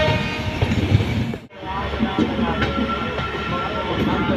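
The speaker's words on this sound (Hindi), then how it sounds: "जो चगिंग आ रही है डीजल लोकोमोटिव की ना, मजा आ जा रहा है।" A diesel locomotive hauls the Capital Express through a long curve out of Katihar Junction, producing a continuous heavy rumble with rhythmic clicks and a brief dip in level midway.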